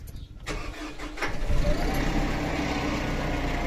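Kubota tractor engine revving after an SCR/DPF emulator install: a short clatter at the start, then the engine picks up into a loud, steady rumble close by, with no one speaking.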